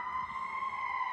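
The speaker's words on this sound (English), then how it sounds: "Excuse the sirens. We're close to a busy street." A siren near a busy street holds a steady, high, droning tone over low traffic rumble, continuous and fairly loud throughout.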